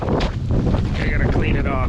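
Strong blizzard wind gusts hard across the microphone in a snowy outdoor spot near a tarp, a continuous loud buffeting roar with flapping surges.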